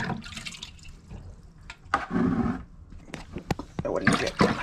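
Tap water runs and splashes as a paint spray respirator mask is rinsed clean at a sink, irregular gushing and dripping bursts close by while a person talks over it.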